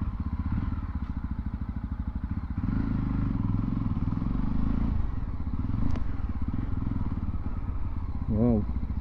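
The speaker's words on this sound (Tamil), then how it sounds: "எக்ஸாஸ்ட் நோட் பார்த்துடலாம்." A Yezdi Roadster motorcycle's exhaust note rumbles steadily nearby, with an even low firing pulse that swells slightly a few seconds in and holds a constant idle-like beat.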